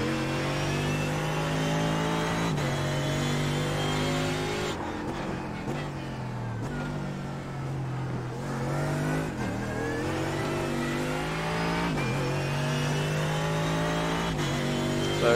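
A Mercedes AMG GT3 race car in the iRacing game laps the Tsukuba Circuit. Its engine revs up and down steadily through gear changes and corners, loud and unbroken throughout.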